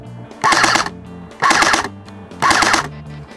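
Ares AMOEBA M4 tactical airsoft pistol firing in full auto: three loud, dense bursts of rapid mechanical shots, each lasting under half a second, separated by brief pauses with a low hum between them.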